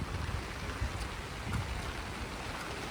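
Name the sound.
rain falling in Nainital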